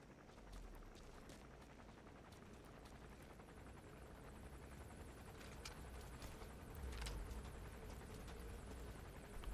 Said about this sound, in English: This gunship is gonna drive me nuts.